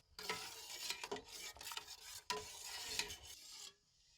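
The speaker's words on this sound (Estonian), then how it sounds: "Segan korralikult, et peits ilusti lahustuks." Wood stain being stirred into a pot of dye water for plant-dyeing yarn: continuous sloshing and scraping with a few sharp knocks against the vessel, steady for several seconds before stopping abruptly.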